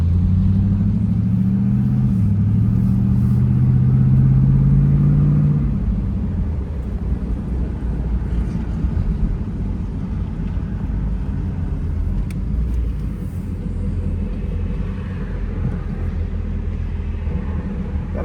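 A 1999 Pontiac Firebird Trans Am WS6 with an LS1 V8 gives a loud, steady low engine drone that eases from a higher hum into a deeper cruising rumble, with no talk.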